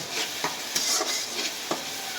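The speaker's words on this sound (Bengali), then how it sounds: "দেখুন এটা কষানো প্রায় হয়ে এসছে।" Masala for hilsa fish curry being sautéed in a pan, with a quiet sizzle under repeated brisk scraping and stirring strokes of a spoon, no talk.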